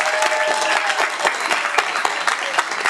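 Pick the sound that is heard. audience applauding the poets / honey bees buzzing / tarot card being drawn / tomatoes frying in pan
audience applauding the poets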